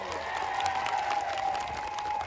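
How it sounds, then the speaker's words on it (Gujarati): Loud, sustained applause and some cheering from a large crowd at a political rally for a local legislator, a dense, steady wash of clapping with a steady tone running through it. "જોરદાર તાળીઓ પાડી લઈએ"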